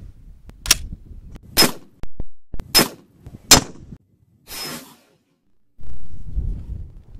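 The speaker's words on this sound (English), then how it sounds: "First round today is the 308 training round." Sharp gunshots from .308 training rounds fired at a half-inch AR500 armor plate outdoors in wind, several loud cracks spaced about a second apart, separated by quiet gaps and low wind rumble.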